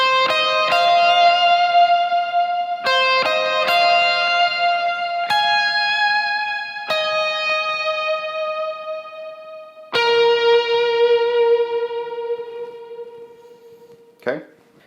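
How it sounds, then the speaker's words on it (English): An electric guitar run through a Helix/HX effects unit plays the chorus of a song, sustained clean chords changing in a slow sequence, each ringing out before a short final pluck. "So this is what the chorus sounds like with effects."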